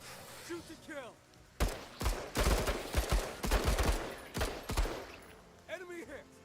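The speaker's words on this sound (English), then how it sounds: "Shoot to kill!" Bursts of gunfire in the video game Menace, loud clustered volleys of shots filling the middle of the clip, with voices talking briefly before and after the firing.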